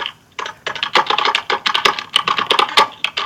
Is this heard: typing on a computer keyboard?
yes